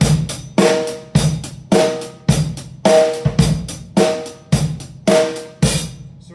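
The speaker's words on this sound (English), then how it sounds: "a rock drum set groove in regular time is gonna have snare drums on two and four" A rock drum set groove in regular time, with snare hits on two and four, kick drum on one and three and a steady hi-hat, repeats in even punchy strikes for about six seconds, close and loud with no talk.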